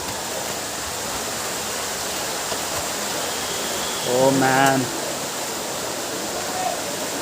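Ubbala Madugu waterfall near Varadaiah Palem roars as a steady, dense rush of falling water that fills the whole clip, with a man briefly exclaiming partway through.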